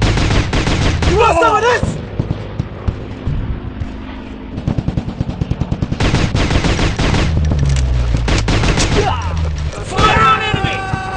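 Rapid machine-gun fire and blasts from the Commando Strike mobile shooter, loud repeated bursts with short pauses, mixed with voiced game callouts and a character shouting.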